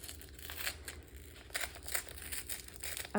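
A package is torn open by hand without scissors, with soft crinkling plastic or paper and ripping bursts in irregular spurts, fairly quiet and close with no talking.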